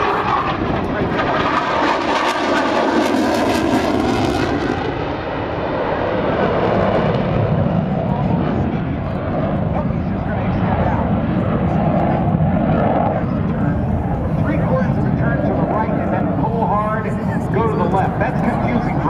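A military jet aircraft in flight gives off a constant, loud engine roar that fills the whole stretch. Someone talks over it.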